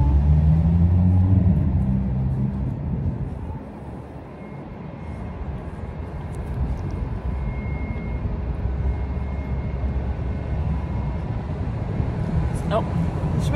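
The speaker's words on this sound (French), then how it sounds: "c'est bus sur bus, c'est impressionnant ici" Buses and cars pass steadily on a busy city street, forming a continuous loud rumble of engines and traffic that swells and eases, with a person talking over it.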